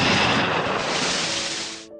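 A grenade explodes close by in a wartime setting, a loud broadband roar that fills the first two seconds and then decays into rumbling debris before cutting off.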